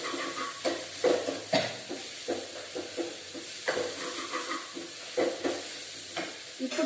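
Potatoes fry in a pan for poori curry, a soft continuous sizzle broken by repeated scraping stirs of a spatula, close but fairly quiet, with no talking.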